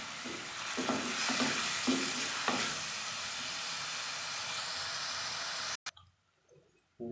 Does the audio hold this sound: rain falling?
no